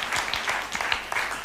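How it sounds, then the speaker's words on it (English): A church congregation applauding a guest pastor, dense hand clapping spread across the room, moderately loud and continuous with a faint voice underneath. "Can you guys give them a great big hand clap?"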